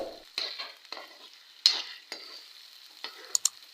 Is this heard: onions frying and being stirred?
yes